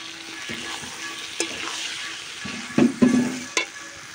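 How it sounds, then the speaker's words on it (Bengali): Meat frying with spices in a pan while being stirred, a steady close sizzle broken by a few louder scraping stirs and spatters. "মাংস রান্না বসিয়ে দিয়েছি, কষাচ্ছি মাংস, সব মশলা টশলা দিয়ে দিয়েছি গো"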